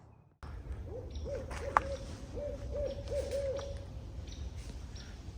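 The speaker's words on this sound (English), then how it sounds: "That barred owl was right there, huh?" A barred owl hoots in a woodland, a series of rounded, wavering calls at moderate distance against a low background rumble, with one sharp click partway through.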